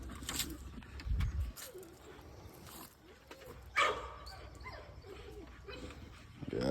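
Neighbor's dogs barking excitedly outdoors during a squirrel hunt with an Olde Boston Bulldogge, some distance away and fairly faint, with a few sharp bursts, birds cooing and brief low speech around them.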